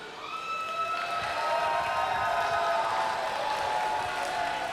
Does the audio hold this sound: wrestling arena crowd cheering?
yes